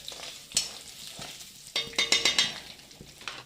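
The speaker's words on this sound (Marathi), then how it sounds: "त्यामध्ये टाकणार आहोत कढीपत्ता, तेजपत्ता, मसाले, जिरे हे व्यवस्थित परतवून घेऊया।" Curry leaves, bay leaf, cumin and spices sauté in hot oil for matar paneer, a soft sizzle under clinking spoon-and-pan stirring with a quick run of scrapes, close.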